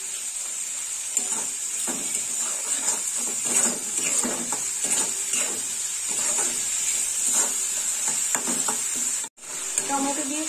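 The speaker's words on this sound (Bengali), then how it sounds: "কেটে রাখা টমেটো দিয়ে দিলাম। দুটো কারি পাতাও চলে গেছে।" Chopped tomatoes and curry leaves frying in a pan for a Bhola fish curry, a steady close sizzle with scraping stirs throughout, briefly cut off near the end.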